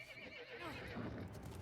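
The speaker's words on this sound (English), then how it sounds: "Scared horse." A scared horse in a video game neighs, a loud wavering whinny that rises and falls over a second or so, followed by a low rumble and faint hoof clatter, with no talk.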